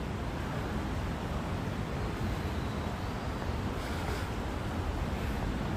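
The Kanda River in Tokyo, running high, flows with a steady broadband rush of water and wind noise, continuous and fairly faint, with no voices.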